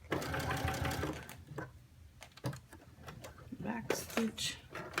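A sewing machine back-stitches a shirt placket with a close, rapid whirring burst, then stops, followed by brief handling noises and soft talk.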